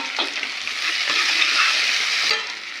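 Dal makhani with green chillies being stir-fried in a pan: a loud, continuous sizzle with steady scraping of a spatula, close and without any talking.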